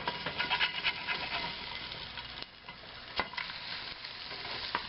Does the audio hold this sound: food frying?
yes